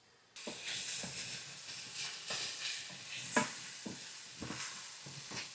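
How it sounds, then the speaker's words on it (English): Potatoes steam and sizzle in a lidded pan, a steady close hiss of frying broken by periodic clatters of stirring. "I'm going to put the lid on, and that's going to help steam our potatoes and cook them even quicker."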